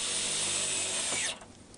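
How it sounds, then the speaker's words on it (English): A power drill whines at high speed driving a self-tapping screw into a car's metal floor pan, loud and close, then stops abruptly and spins down after about a second and a half. "I then used self-tapping screws to hold it in"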